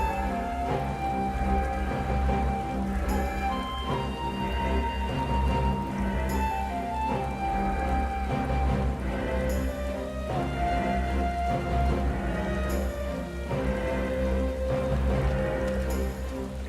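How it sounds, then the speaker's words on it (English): Steady rain in Final Fantasy XIV patters continuously throughout, with soft musical tones drifting over it; no talking. "And of course it's raining."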